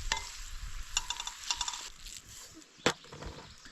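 Steak and mushrooms seasoned with butter sizzle and crackle over an outdoor campfire, a steady close frying hiss with scattered pops and a sharper clank partway through as the food goes onto the fire.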